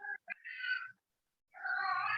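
A pet cat meows loudly and close by indoors, giving a couple of short chirps followed by two long drawn-out meows separated by a brief silence.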